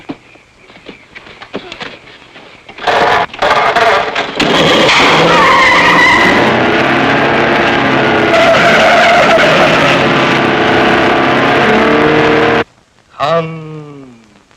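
A car drives hard and skids in an old comedy film, a loud sustained tire squeal and engine roar that bursts in, holds for several seconds, cuts off, then returns briefly.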